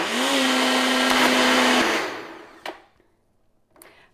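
A blender whirs steadily as it blends a frozen coconut drink, running loud and close for about two seconds before cutting off, followed by a couple of brief knocks and near silence.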